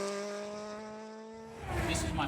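A vintage Datsun BRE 510 race car holds a steady engine tone, then bursts into loud, rough acceleration with tire noise near the end.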